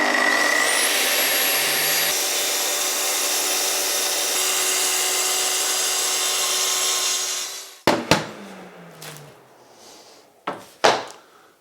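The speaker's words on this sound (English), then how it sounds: "I can now do my cut along the length of this sheet of MDF." A saw running along a guide rail cuts the length of a sheet of MDF, a loud steady whine for about eight seconds, then it stops, followed by a few sharp clunks and knocks.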